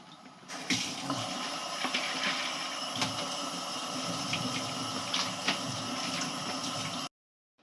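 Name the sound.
washing sugarcane under running water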